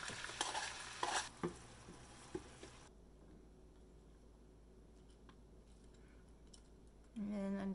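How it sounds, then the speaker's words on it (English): Onions dropped into very hot oil hiss in a brief sizzling burst with a few clinks, then quiet down as the heat is turned off; a voice starts at the very end. "When it's boiled and super hot, turn off the heat and then drop the onions right away"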